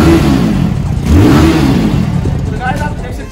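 A Benelli TRK 251 motorcycle engine revs up and settles back, a loud, close mid-pitched roar with rising and falling pitch sweeps.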